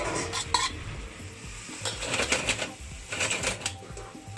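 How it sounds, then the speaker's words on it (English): Minced pork and pak choy leaves sizzle in a hot pan as a spatula scrapes and clinks against the metal in quick, irregular strokes. "You need to hear the sizzling sounds."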